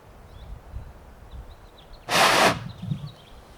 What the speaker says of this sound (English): You probably could hear the whoosh probably more than see the flames